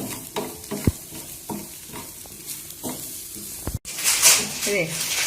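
Grated coconut frying in a pan for Kerala-style prawn thiyal, with repeated scraping stirs and light sizzling up close, then a brighter burst of hissing near the end.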